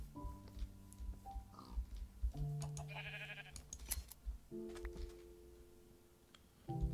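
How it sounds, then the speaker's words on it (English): A Minecraft sheep bleats several times, buzzy, tonal game bleats that start and stop abruptly, close and fairly clear over a quiet background with scattered clicks. "Ah, there's a sheep."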